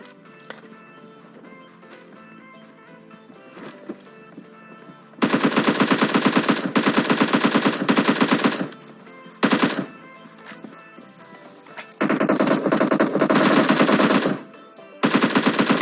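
AKM gunfire in a battle royale video game, long loud automatic bursts with pauses between them, preceded by quieter game sounds, with no talking.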